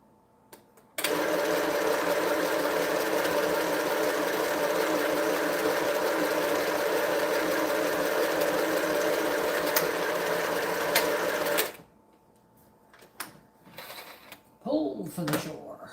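A sewing machine stitches a quilt top, running as one loud, steady mechanical whir for about eleven seconds before stopping abruptly, followed by faint handling noises and a few quiet murmurs.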